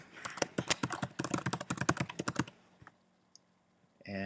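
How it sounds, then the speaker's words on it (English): Rapid typing on a computer keyboard while entering an email address, with a quick close run of crisp key clicks for a couple of seconds, then a single tap and a brief pause. "Type in an email."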